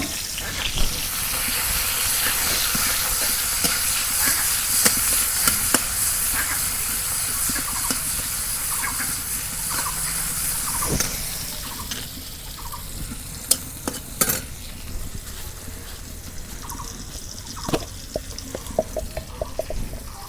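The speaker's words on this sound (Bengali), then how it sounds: "তরকারি এখন বাগার দেবো, পেঁয়াজ কুচি দিয়ে দিলাম।" Chopped onion hits hot oil to temper a curry of ash gourd and bata fish on a village clay stove, a loud steady sizzle that gradually eases into sparser crackling and popping.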